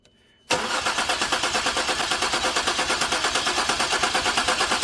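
A 2011 Ford Explorer engine with a newly installed powertrain cranks and catches after a moment of near silence, then settles into a loud, steady idle with a fast, even pulse.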